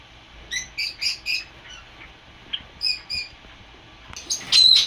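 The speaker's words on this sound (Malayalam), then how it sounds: "സുന്ദരന്മാരായ കുറെ കിളികൾ" Several bright, high chirps and tweets from small birds in short bursts, with a louder flurry of calls near the end; no talking.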